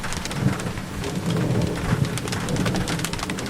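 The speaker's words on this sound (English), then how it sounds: "this interruption was necessary so that I could hear the thunder better" Thunder from a Florida summer storm rolls in as a low continuous rumble, with rain falling and birds calling faintly over the top.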